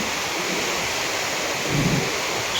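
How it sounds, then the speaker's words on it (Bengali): Rough sea at high tide on a beach, a steady broad roar of surf with a slight swell of crashing water near the end, no voices. "সমুদ্রের কন্ডিশন দেখুন, তাল সমুদ্র জোয়ারের।"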